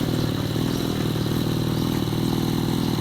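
A motorcycle engine idles nearby with a steady mechanical rumble and rapid clattering pulses, continuous and fairly loud with no talk.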